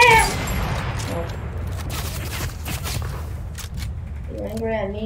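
Rapid gunfire in a video game bursts out at the start and continues as a dense, loud rattle of shots over several seconds, with a voice briefly talking near the end.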